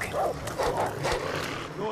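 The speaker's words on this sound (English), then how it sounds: "What is that dog going off about?" A dog barks repeatedly in Far Cry 3 (Classic Edition), the barks rising in short bursts over a steady game background, with a voice talking through them.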